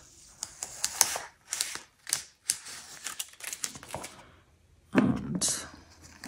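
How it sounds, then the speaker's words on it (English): Masking tape peeled off a broken glass and resin mixed-media artwork, heard as a series of close, sharp ripping and tearing bursts in uneven succession, with a final louder strip pulled near the end. "Now let's just take off this masking tape."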